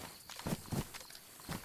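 Footsteps in the survival game DayZ, about four soft, uneven steps on hard ground, faint and fairly close, with no talk over them.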